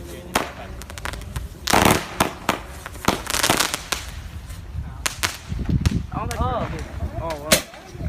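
Fourth of July firecrackers and fireworks bursting in rapid, irregular bangs and crackling volleys, some loud and close, with whistling rises near the end and people talking and exclaiming between blasts.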